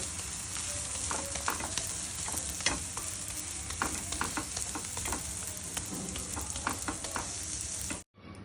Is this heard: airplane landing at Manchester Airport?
no